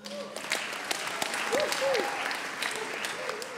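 Audience at a comedy roast in Slovenia applauds a comedian being introduced, with dense, continuous clapping from a live crowd and a faint voice and whistle-like tones heard through it.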